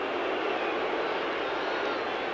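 Baseball fans boo at a ballpark after a batter is hit by a pitch, a dense, steady roar of crowd voices filling the stands without a break.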